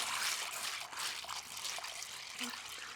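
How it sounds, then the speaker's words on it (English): Water trickles and splashes steadily over dried posole corn as it is rinsed, a soft continuous running-water sound throughout. "We're going to rinse it."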